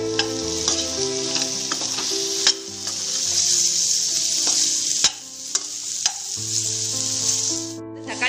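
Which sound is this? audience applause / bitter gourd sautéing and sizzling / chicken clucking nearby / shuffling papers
bitter gourd sautéing and sizzling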